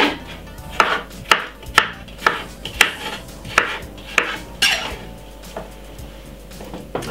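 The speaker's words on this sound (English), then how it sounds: "So that's why you see I'm cutting my one really small." A knife chops cucumber into small pieces on a cutting board, making a steady run of sharp, close knocks, about two per second with slight pauses between strokes.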